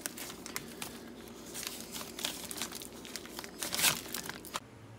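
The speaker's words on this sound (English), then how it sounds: "Now I'm just going to take and put it in a plastic bag and seal it up" Cured, rinsed pork placed into a plastic bag and sealed by hand without vacuum, close crinkling and crumpling of plastic in uneven bursts that swell briefly before stopping abruptly; no voices.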